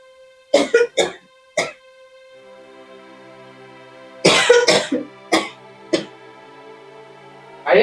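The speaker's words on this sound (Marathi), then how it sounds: "खोकला लागलाय." A sick woman coughs in harsh bursts, first two or three quick close coughs, then after a pause a longer cluster of heavier hacking coughs, with a steady low hum behind them.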